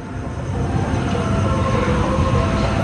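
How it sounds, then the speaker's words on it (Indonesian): A local Bandung Raya commuter train from Cicalengka to Padalarang rolls into track 3 at Kiaracondong station, a steady loud rumble of wheels and rail noise throughout with a faint hint of squeal, no voices. "Kereta api lokal Bandung Raya dari Cicalengka dengan tujuan Padalarang masuk jalur 3"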